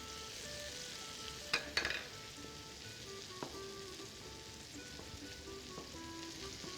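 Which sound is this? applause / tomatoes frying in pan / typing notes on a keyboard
tomatoes frying in pan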